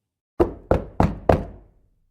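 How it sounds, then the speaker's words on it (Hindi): Four sharp knocks on a door at night, evenly spaced about a third of a second apart, close and solid with a short ringing decay after each, alone with no talking. "किसी ने दरवाजा खटखटाया।"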